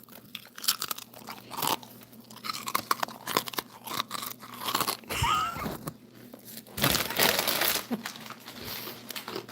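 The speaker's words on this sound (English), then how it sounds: "Can you guys hear my crunching?" Close, loud crunching and chewing of potato chips, with repeated crisp bites and crackling chews in uneven bursts, plus a little bag crinkling, with no talking.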